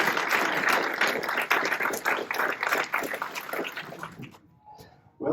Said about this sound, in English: But let's give Blair a hand of applause.